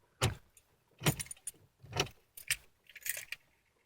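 Car keys jangle and clink in a series of sharp bursts while fumbling at the ignition of a Dodge Dart that won't start, close and fairly quiet with short pauses between the rattles.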